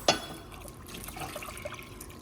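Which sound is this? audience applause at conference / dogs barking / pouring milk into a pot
pouring milk into a pot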